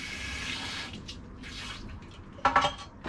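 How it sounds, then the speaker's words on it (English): Clean tap water runs into a film developing tank in a steady hissing fill, followed by a brief clatter of the tank near the end. "Fill the tank up, clean water."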